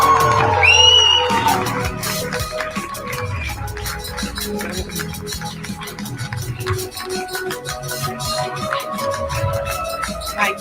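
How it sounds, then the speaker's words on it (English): A hall audience breaks into loud applause and whooping cheers, clapping sharp and dense across the full stretch with shouts rising above it, and a voice briefly audible at the start. "I want to hear the hall burst with applause."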